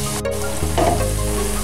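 Bacon, onions and garlic sizzle in a frying pan, a loud, close, continuous hiss with a brief shift in tone as more goes in.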